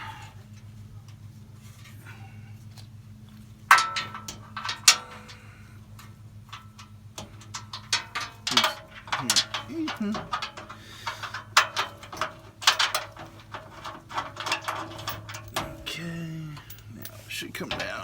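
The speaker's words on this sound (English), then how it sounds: "Now I'm going to take that last bolt out." A ratchet wrench clicks in quick bursts while the last bolt is removed under a 2016 Toyota 4Runner during an oil change, starting suddenly and continuing in uneven runs of close metallic ticks over a faint steady hum.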